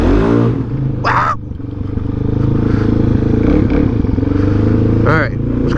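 Supermoto motorcycle engine running on half choke in cold weather, a loud close steady rev with a buzzy throbbing note and short rising bursts, while a rider talks over it.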